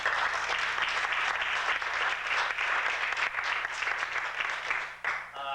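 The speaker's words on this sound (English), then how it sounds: "So if you could give them a round of applause." Guests at a 1995 rehearsal dinner give a round of applause for their hosts, a full, continuous burst of clapping from a roomful of people nearby that thins out just before the end.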